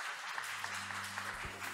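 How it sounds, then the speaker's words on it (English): A big round of applause after a startup investor-relations pitch at an entrepreneurship busking event forms a dense, continuous wash of many clapping hands, fairly quiet, with a low hum underneath. "Please give a big round of applause."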